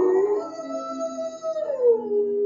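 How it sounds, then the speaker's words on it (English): In the video game Fortnite, the Howl emote gives one long animal howl that slides slowly downward and trails off, close and loud, with nothing else heard. "Then we have the Howl emote"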